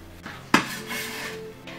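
Chopped enoki mushrooms dropped into a dish in a home kitchen, a few soft clinks and one sharper knock of tableware against the plate, close and fairly quiet.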